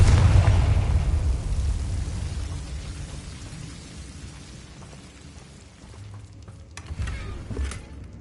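A Confringo fire spell cast in Hogwarts Legacy bursts loudly at the start, then its rumbling blast decays over several seconds before a second, smaller burst flares near the end.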